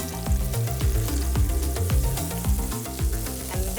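Mirepoix sizzles in a pan for Korean beef short ribs, a steady crackle broken by regular stirring clatters, close and fairly loud.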